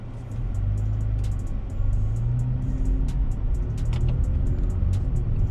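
A 2017 Toyota Tacoma pulls away in S mode in first gear, its engine a steady low rumble with a slight rise in pitch partway through, heard close from inside the cab with faint ticking above.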